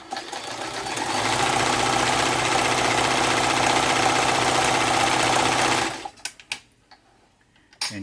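A Janome Combi two-in-one sewing machine and serger runs an applique stitch at a short stitch length, with a loud, steady mechanical whir for about five seconds before stopping, followed by a few small clicks.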